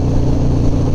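Harley-Davidson Dyna motorcycle engine accelerating, a loud, close, rumbling drone that holds steady through a brief one-second burst.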